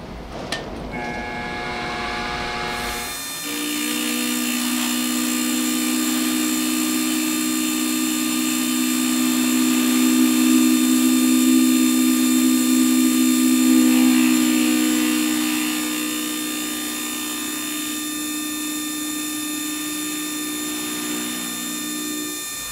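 A face mill cutter machines scrap aluminum at about 700 RPM, giving a loud, steady tonal whine with a low hum. It starts abruptly after a brief clunk and keeps a constant pitch, swelling slightly in the middle.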